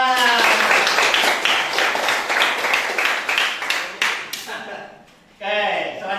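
Classroom applause: a group claps together in a steady patter that thins out, followed by a brief pause and then voices speaking.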